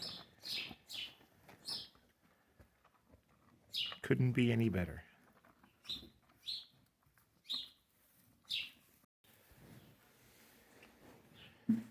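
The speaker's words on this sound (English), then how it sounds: "birds are singing in the barn" Birds chirp and tweet in short bursts inside a farm barn, fairly close, with a brief flutter of other noise midway; a person speaks briefly over the calls.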